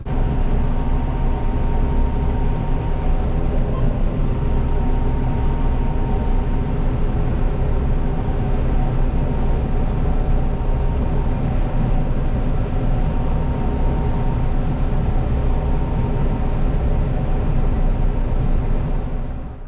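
A harvest machine engine idles while warming up, a loud, steady diesel drone with a constant low hum and no change in pitch, with nothing else heard over it.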